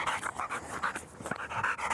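A dog panting steadily, close and rhythmic, with quick breathy pulses over a soft noisy background and no voices.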